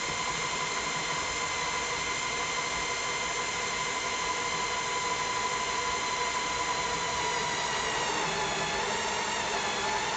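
Step bit spun by a power drill cutting a fill port, a continuous close grinding whine that stays level, then shifts slightly in pitch near the end as the cut finishes.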